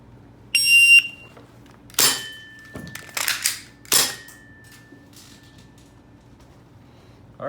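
Airsoft gun magazine change timed by a wireless electronic shot timer: a shrill electronic beep, then a few sharp clicks and clacks of the magazine swap, and a crisp single shot near the end, all close and with no talking.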